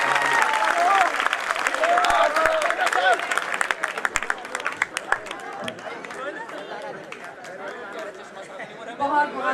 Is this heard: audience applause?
yes